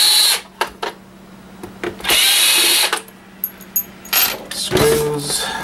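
A power drill working on a video game console, running in several short bursts of whirring separated by pauses, with small metallic clinks and rattles between them.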